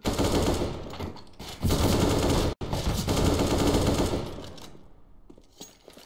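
Gunfire during a Counter-Strike match: loud, sustained bursts of rapid automatic fire with a brief break, then sparser shots that fade to quieter scattered pops near the end.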